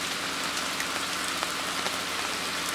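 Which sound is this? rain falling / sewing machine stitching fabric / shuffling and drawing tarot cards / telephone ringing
rain falling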